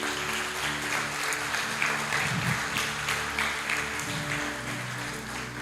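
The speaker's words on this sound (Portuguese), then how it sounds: "Você pode aplaudir ao Senhor?" Church congregation applauding, a steady wash of clapping throughout with low hum and faint voices beneath.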